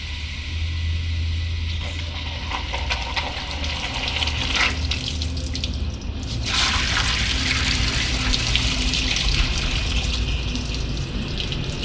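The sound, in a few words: water spraying into a boiler tube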